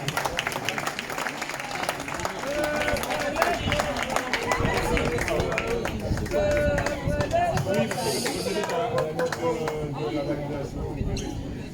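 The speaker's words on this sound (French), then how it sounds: "Je vous demande d'applaudir Monsieur Liova Ajavon." Crowd at the Open Corsair 2023 tennis tournament in Martinique applauding a player as he is introduced, steady clapping with some voices throughout, sustained at moderate loudness.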